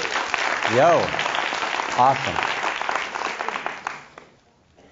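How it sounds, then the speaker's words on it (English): An audience at a live talk event applauding, a dense round of clapping with a voice calling out over it, tapering off into silence at the end. "Let's give yourselves a big round of applause."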